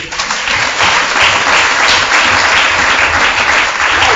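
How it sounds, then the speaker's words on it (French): A church congregation applauds in worship, a loud, continuous wall of clapping that stays strong and close throughout, with a low rumble of crowd noise beneath. "On va applaudir le Seigneur."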